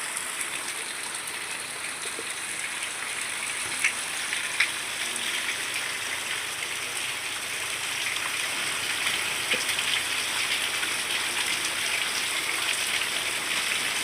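Heavy rain pours steadily over a village, a dense, continuous hiss of falling water with scattered nearby drips and splashes standing out, loud and unbroken throughout with no voices.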